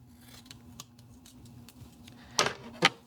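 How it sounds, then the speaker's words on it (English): Gaffer tape being separated, with two sharp, loud rips near the end following faint light ticks and rustles in a quiet room. "Cut it, tear it, however you want to do your gaffer, separate your gaffer tape."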